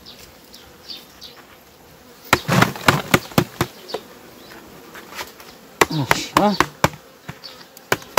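Winter honeybees, a handful from a hive, buzz in a close, persistent hum amid sharp clicks and knocks of handling frames, with someone briefly speaking.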